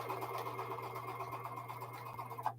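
A sewing machine hums steadily at close range while sewing blue quilt fabric squares, a soft continuous mechanical whir with a steady low tone that stops abruptly at the end.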